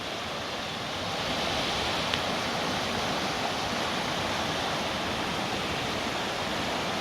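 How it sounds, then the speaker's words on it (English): A waterfall pours in a steady, continuous broadband roar of rushing water, moderately loud and unchanging throughout with no voices. "I've seen a couple of waterfalls."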